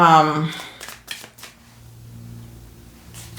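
A person speaks briefly, then tarot cards are shuffled with a few quick riffling snaps, followed by a quiet hum.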